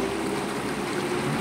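River water flowing steadily in the middle of an ancient mountain river, a continuous broadband rush and trickle with no pauses, fairly close and even in level throughout.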